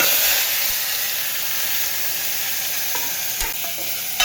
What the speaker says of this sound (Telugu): చింతపండు, ఎండుమిర్చి, కరివేపాకు, టమాటా ఇవి తిరగబాతుకు వేస్తామన్నమాట